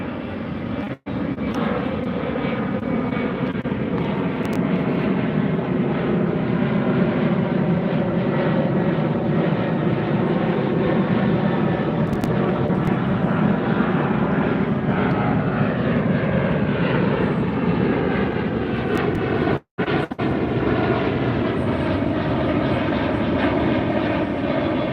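A Delta jet airliner takes off from LAX, its engines producing a loud, steady roar that holds for the whole stretch without fading. A few brief dropouts break the sound, and no one speaks.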